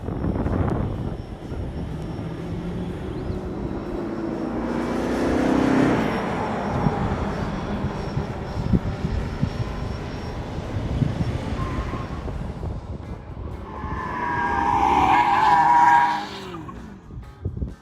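A 2002 BMW 745 Li with mechanical issues runs an autocross course among several cars, engine roaring past with tires squealing and skidding in bursts, the sound rising and fading over a wide outdoor space.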